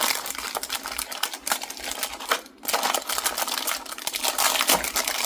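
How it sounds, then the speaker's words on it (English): Plastic packaging crinkles and rustles in dense, irregular bursts, with sharp crackles throughout, close and fairly loud while drills and drill storage are handled. "Sorry about the crinkling."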